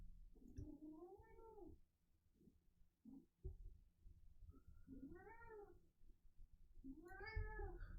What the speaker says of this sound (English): Oh, my cat. My cat is hungry